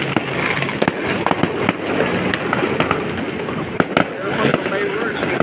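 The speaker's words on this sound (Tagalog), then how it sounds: "Ang ganda ng fireworks." Fireworks display at the Esplanade in Intramuros by the Pasig River, with sharp repeated pops and crackles bursting irregularly over a dense, continuous wash of crowd noise and distant booms, while people talk nearby.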